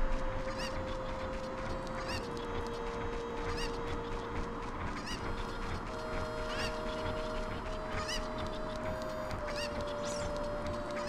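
Cucco chickens from Zelda: Ocarina of Time give repeated honking, clucking calls over steady game music and ambience, continuous and fairly loud throughout.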